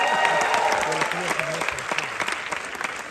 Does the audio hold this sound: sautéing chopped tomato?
no